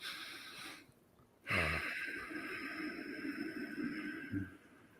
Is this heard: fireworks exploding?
no